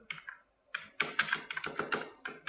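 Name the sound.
typing on a computer keyboard in Excel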